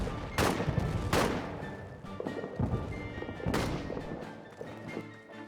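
Booming impacts and heavy gunfire in the trench-warfare game All Quiet in the Trenches, with several loud close blasts, one landing hard to the left, over a continuous rumble of battle, no speech.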